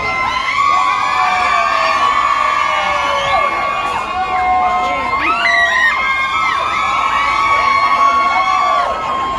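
A concert crowd screams and cheers nonstop, with many high-pitched shrieks and whoops layered over each other in a loud, dense wall of excited voices.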